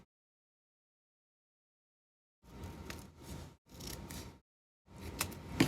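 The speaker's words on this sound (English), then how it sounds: "So I'm going to cut some off the top." Scissors snip through paper while making junk-journal ephemera: after a silent stretch, three close rustling cuts follow in quick succession, then a brief pause and a final louder snip, all near and alone.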